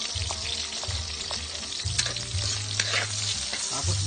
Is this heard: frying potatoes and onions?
yes